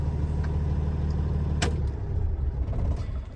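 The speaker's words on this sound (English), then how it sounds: "Now we're gonna shut off the truck." A truck's engine rumbles at idle, then a click sounds and the low running drone fades toward quiet, close and fairly loud throughout.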